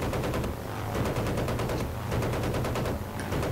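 Rapid machine gun fire in the video game Battlefield 1943 at Coral Sea, a dense, continuous rattle of shots at close range for a few seconds with no pause.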